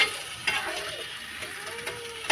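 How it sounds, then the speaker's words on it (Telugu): Hot fried jangri is stirred in sugar syrup, giving a soft, wet sizzling and swishing texture with faint scraping clicks from the utensil, steady and close for a couple of seconds. "ఇలా వేడివేడిగా ఉండగానే ఈ పాకంలో వేసుకోవాలి ఇలా పాకంలో వేసుకొని"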